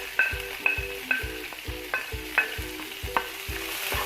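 Onion stirred into hot oil with mustard seeds, green chili and curry leaves gives a soft sizzle, broken by a steady rhythm of spatula scrapes and taps against the pan, close and moderately quiet.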